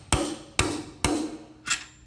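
Four heavy hammer blows driving a suspension bushing into a Jaguar XK150, evenly spaced about half a second apart, the last one lighter; close and loud with no talking.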